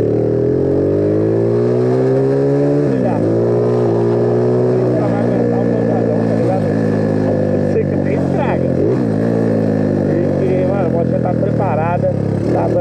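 Custom Honda Today motorcycle accelerating hard, engine note climbing through repeated revs and gear shifts, loud and close with a buzzy two-stroke-like drone over about thirteen seconds.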